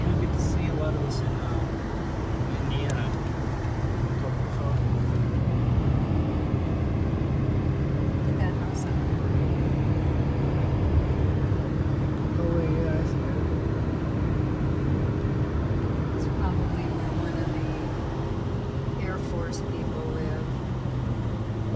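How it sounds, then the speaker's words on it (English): Inside a car climbing a mountain road, a steady, loud engine and tyre drone holds constant for the whole stretch, with a few light knocks and rattles on top. "Driving up through the mountains."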